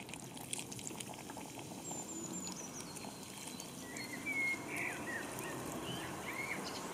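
Lichtenberger Schwarzbier dark beer poured into a Petromax ft9 fire pot with pork neck, giving a soft, steady pouring and fizzing over a faint background, with small bubbling pops throughout.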